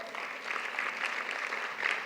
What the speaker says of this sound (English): a round of applause for Tonewall